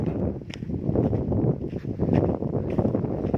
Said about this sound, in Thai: เป็นลมเบาๆครับ